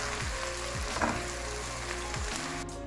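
Finely sliced onions fry in a pan for masala bhindi, a dense, continuous sizzle close by with a few soft low knocks from stirring, fading at the very end.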